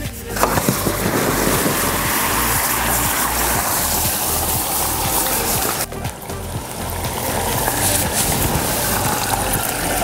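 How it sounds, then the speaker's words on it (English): A fidget spinner dropped into a container of violently boiling liquid nitrogen, giving a loud, steady hissing, bubbling roar with faint cracking, close by and without talk. "We're gonna drop our dry ice spinner into the liquid nitrogen"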